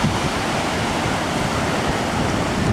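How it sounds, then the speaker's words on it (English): Huge surf breaking and re-breaking along Hawaii's North Shore, a loud, dense, continuous roar of crashing water with no gaps and no voices. "Ginormous waves out here. I mean, they're absolutely huge and breaking all over the place and re-breaking as they come in."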